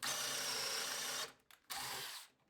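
A power drill in regular drill mode, not hammer, whirs in two short bursts, high-pitched and close, with a brief pause between them.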